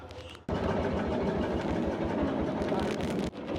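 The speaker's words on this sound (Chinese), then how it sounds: "因为我们的大哥把这个发动机已经慢慢熄火了" A boat engine rumbles loudly and steadily up close on a river in rural Shan State, Myanmar, then cuts out abruptly near the end, leaving a quieter background.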